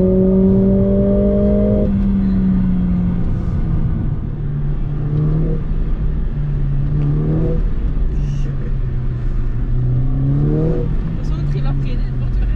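A Mercedes CLA45S AMG accelerates hard, its engine note climbing through several gear changes with repeated rising sweeps, loud and close, while people talk over it.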